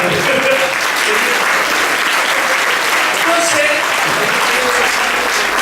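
Church congregation applauding during a Sunday service, a steady loud wash of clapping filling the room throughout, with a voice speaking briefly over it.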